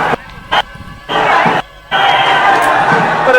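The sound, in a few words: crowd of Maratha protesters at CSMT railway station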